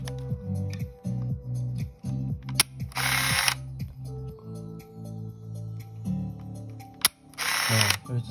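A Kodak Star 735 film camera's shutter and winding mechanism ratchet in rapid repeated clicks, with two louder bursts of whirring motor noise, heard close and alone with no talk.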